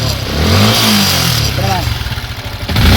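A Yamaha Sniper 155R motorcycle engine with a broken VVA rocker arm pad runs and revs nearby, its mid-pitched drone swelling and pulsing, with someone talking over it.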